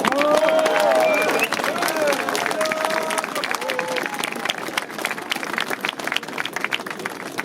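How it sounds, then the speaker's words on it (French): An outdoor crowd gathered around a Virgin Mary statue on the Île de Ré claps and cheers. The applause is sustained and spreads into scattered claps, with voices and chatter mixed in, especially at the start. "on peut les applaudir parce qu'ils sont courageux, déterminés et fiers de projet"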